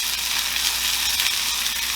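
A T-bone steak sizzles in a pan with light butter substitute over high heat, giving a steady, close, bright crackling hiss with no voices.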